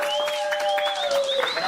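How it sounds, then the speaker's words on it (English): Applause from an audience at a youth center live event, heard as a brief, moderately loud wash of clapping and crowd noise with a few voices mixed in. "You guys give him a big round of applause."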